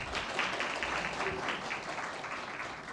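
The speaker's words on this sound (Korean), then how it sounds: "다시 한 번 더 큰 박수 부탁드립니다" Audience applause at a youth mock council session in Gimhae, a steady dense patter of clapping held at an even level from start to finish.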